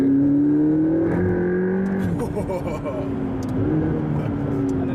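The twin-turbo engine of a McLaren 12C Spider supercar drones and climbs in pitch as it revs, a steady close mechanical hum beneath someone talking.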